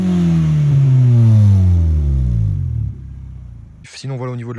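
Honda Civic EJ9 engine revving hard, a loud rising and falling roar with strong harmonics that fades after about three seconds, followed by a brief burst of nearby voice.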